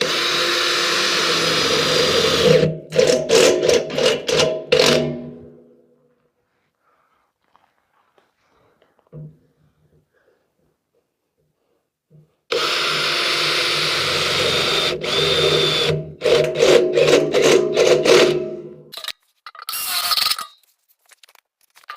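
A power drill bores holes in a steel drum coated with avocado oil, running in loud sustained whines broken by sharp stuttering bursts, with a long quiet gap between two drilling passes.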